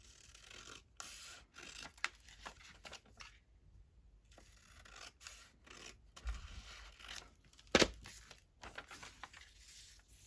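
Paper being trimmed for junk journal inserts: quiet, intermittent snips and rustling paper scrapes with a few sharp handling clicks, close and faint in a still room.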